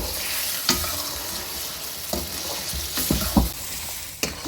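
Beef pieces frying for karahi, a steady sizzle with clinks of stirring, a few sharp scrape-and-knock accents standing out from the continuous hiss, close and fairly quiet.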